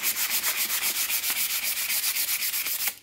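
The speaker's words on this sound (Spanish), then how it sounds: "voy a utilizar esta otra lija, que es más suavecita, es la más finita" Steady back-and-forth rubbing of fine sandpaper on door frame moldings, a quick even rhythmic scratching close by with no voices.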